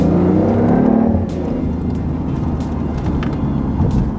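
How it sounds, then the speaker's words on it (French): A BMW i8 hybrid supercar rated at 374 horsepower drops through its gears: the engine note is loud and close, with a rising blip near the start that settles into a steady mid-range drone. "Là je viens de rétrograder. Et je rétrograde encore."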